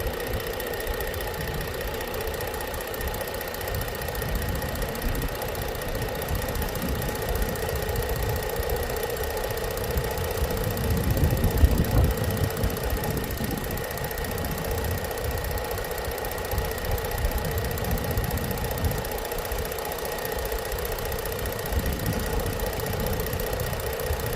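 A 2013 Ford Edge engine idles with an oil leak, producing a steady, rough mechanical rumble with a faint ticking undertone and a constant hum, unchanging throughout with no speech.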